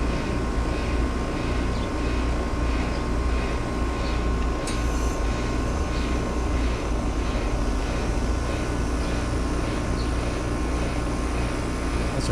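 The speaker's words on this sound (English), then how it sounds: "We could hear a sound and the change in the sound in the compressor." An air conditioner compressor hums steadily while refrigerant is added, giving a loud, constant mechanical drone with a low rumble and a faint tonal whine, unbroken throughout.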